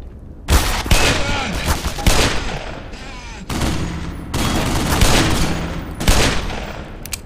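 Rapid bursts of gunfire crackle in repeated volleys in the video game Black Mesa, loud and close, with short pauses between the bursts and a steady rumble underneath.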